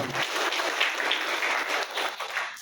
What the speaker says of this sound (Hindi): एक बार जोरदार तालियां बजाओ उनके लिए।